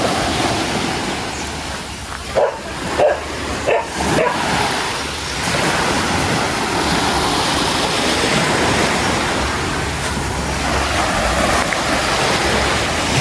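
Steady sea surf roars as a continuous wash of breaking waves at Sumilon Island, Cebu, with a few brief thumps early on and no talking.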